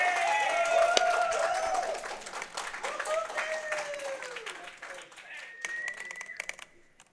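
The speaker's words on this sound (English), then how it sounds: "I didn't catch that because of the clapping." An audience at a speedrun marathon event applauds with a dense patter of clapping that thins out toward the end, while people talk over it and game sounds play.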